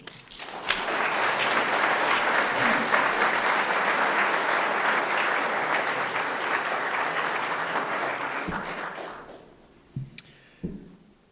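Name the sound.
audience applause welcoming Bernard-Henri Lévy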